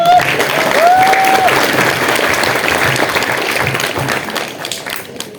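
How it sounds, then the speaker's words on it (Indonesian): An audience applauds children after their theatre performance at a shelter in Indonesia, a dense, steady burst of clapping that slowly fades, with a brief whistle-like tone near the start. "Tepuk tangan."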